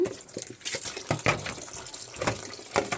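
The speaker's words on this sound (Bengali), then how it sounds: "আলু, ফুলকপি, মাছ আর লাউ এগুলো সব ধুয়ে নিব" Running tap water splashing and gushing continuously as potatoes, cauliflower, fish and bottle gourd are washed in a home kitchen, close and fairly loud, with no one speaking.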